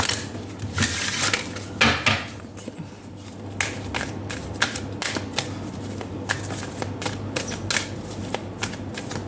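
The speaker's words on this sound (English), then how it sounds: "that was a terrible shuffle" Tarot cards being shuffled and handled up close, a run of quick crisp riffles and taps with brief pauses between bursts.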